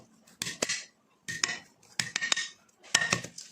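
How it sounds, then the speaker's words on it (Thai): Washed garlic cloves being smashed in a kitchen: four short bursts of sharp knocking and clattering on a board, each a cluster of two or three hits, close and fairly loud with no talk. "กระเทียมล้างแล้วนะครับล้างสะอาด ทุบเลย"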